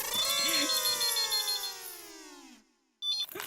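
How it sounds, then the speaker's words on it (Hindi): A telephone rings in a busy household, a loud, harmonically rich electronic tone that slides slowly downward for about two and a half seconds, cuts off, and then returns in a short burst. "मैं फोन उठाती हूँ।"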